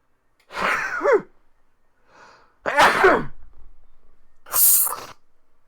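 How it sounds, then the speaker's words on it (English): Several sharp sneezes and sneeze-like bursts come in quick succession, each a loud nasal blast with short gasps between, set against near silence. "That was the weirdest sneeze."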